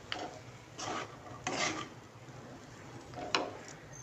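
A spoon stirs semolina with turmeric and salt in a pan, making a few soft, scraping rubs at irregular intervals, close but quiet, with no talking.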